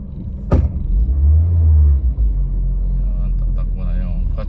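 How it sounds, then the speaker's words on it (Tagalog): A car rolls along a road under construction during concrete road widening in Cancatac, Corella, Bohol, a loud close low rumble of engine and tires, with a sharp knock near the start and faint voices later. "Yun, tatakbo na yung kotse sa unahan."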